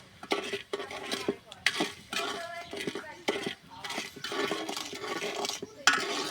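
Sweet kuli pitha filling with jaggery being stirred in a pan, a spoon scraping and clinking against the metal in repeated irregular strokes, close and fairly loud, with people talking throughout.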